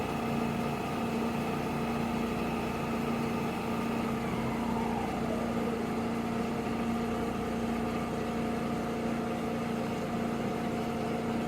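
A Cee 100CB spin coater holds a steady 3000 RPM, giving a constant motor hum with a faint downward-sliding whine passing through, unbroken and without talking.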